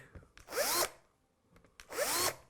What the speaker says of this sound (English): So let's just give it a slight countersink.